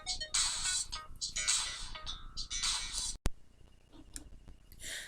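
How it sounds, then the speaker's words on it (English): A mobile phone ringtone plays indoors during a quiet crochet session, with bright repeating melodic bursts across the first few seconds, then sparse softer tones and clicks. "that's my phone ringing."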